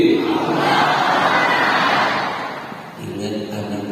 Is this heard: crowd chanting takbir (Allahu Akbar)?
yes